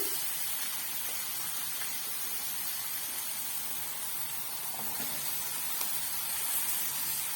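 Carrots and peppers sauté in a pan, giving off a soft, continuous spray-like sizzle at an even, moderate level with no talking.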